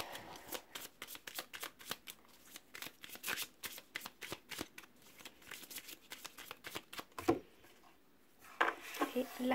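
A deck of tarot cards is shuffled close up in quick rhythmic riffles, then cut, with a few softer taps and card handling toward the end, all heard in a quiet room.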